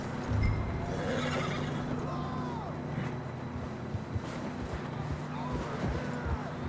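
A horse whinnies in the video game Red Dead Redemption 2 over a busy, noisy background with rumbling and faint hoof-like clatter; the call is fairly faint and brief.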